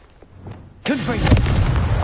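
A Confringo fire blast spell goes off in Hogwarts Legacy, a sudden loud whooshing burst with crackling, rumbling fire that follows a brief stretch of quieter sound.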